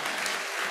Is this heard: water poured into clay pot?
no